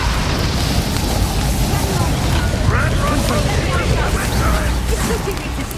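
An Incendio fire spell is cast in the video game Hogwarts Legacy, heard as a loud, dense roaring whoosh with rumbling bursts that fill the whole stretch.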